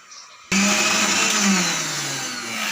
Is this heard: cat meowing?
no